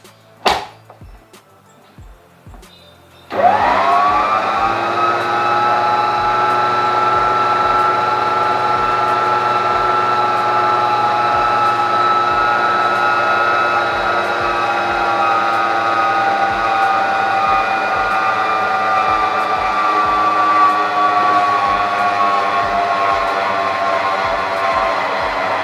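An electric mixer beats buttercream icing made with shortening and sieved icing sugar. It starts abruptly and then whirs steadily and loudly at a constant high pitch, with faint regular ticks running underneath.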